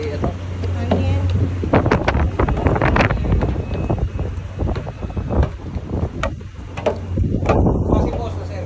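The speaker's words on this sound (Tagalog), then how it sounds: "Hangin." Gusty wind buffets the microphone in loud rumbling bursts, with voices talking over it throughout.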